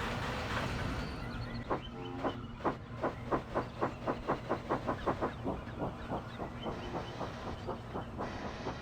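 Steam engine puffing away, a rhythmic series of chuffs starting slowly and quickening into an even beat, then gradually fading as it moves off, over a steady background hiss.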